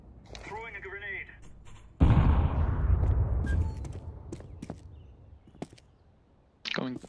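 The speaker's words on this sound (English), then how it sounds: "Throwing a grenade." A Counter-Strike 2 grenade on the Mirage map goes off in one loud, close, sharp blast that rolls into a long fading rumble, with a few faint clicks and a voice around it.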